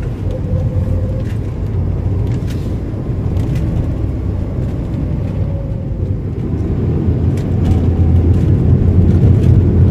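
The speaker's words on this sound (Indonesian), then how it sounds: "Ini ada bis ceria ini teman-teman." A Ceria bus passes along a forest road near Mekarsari village on the Tasikmalaya–Pangandaran route, a steady loud engine rumble and road roar building slightly toward the end, with no talk over it.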